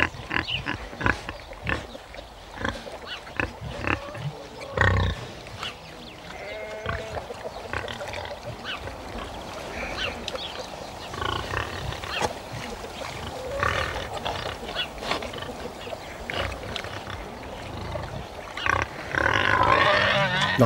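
Sow and boar pigs on a farm grunting in scattered, close bursts throughout, mixed with rustling and some farmyard bleats, with no talking heard.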